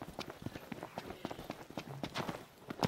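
Rapid hollow hoofbeats clopping in an uneven gallop in the video game Final Fantasy XV, fairly close, with a soft background hum.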